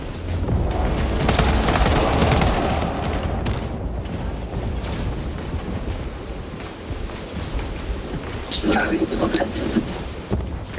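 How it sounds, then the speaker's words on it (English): Frag grenade explosion in the Warhammer 40,000 Space Marine 2 video game, a heavy boom and crackling blast amid sustained battle noise and gunfire, with a second burst near the end. "Throwing frag grenade!"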